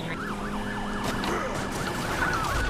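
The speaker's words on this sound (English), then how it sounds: "there's actual sirens going on outside as well" Wailing emergency sirens outdoors, a repeated rising and falling tone, moderately faint and steady over a low background rumble.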